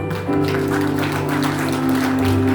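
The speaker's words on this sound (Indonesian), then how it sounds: "Mari berikan sorak-sorai bagi Tuhan." A church congregation at a worship service at GLOW Gading Serpong cheers and applauds, a dense steady wash of clapping and voices over sustained music.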